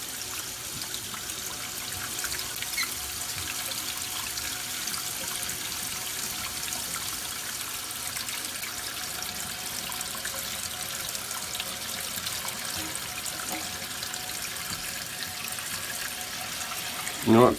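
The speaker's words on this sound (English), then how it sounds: "Let's fill our bowl of water." Water trickling and running into a toilet bowl, a steady thin stream heard nearby for the whole stretch, with a brief louder knock near the end.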